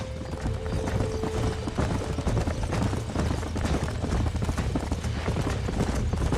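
Horses trot in Red Dead Redemption on a western ranch, with steady, loud hoof clip-clops filling the whole stretch and an occasional whinny rising over them.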